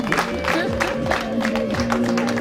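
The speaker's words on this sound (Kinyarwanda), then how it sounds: "mwongere amashyi ndetse n'umwanya" A crowd at a Rwandan wedding ceremony keeps up rhythmic clapping. Voices and cheers mix into the applause.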